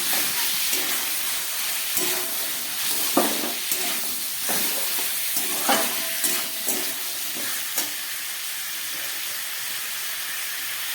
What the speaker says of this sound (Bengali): এবার এই কেটে রাখা সবজিগুলো এর মধ্যে দিয়ে দিচ্ছি বিনস গাজর ক্যাপসিকাম টমেটো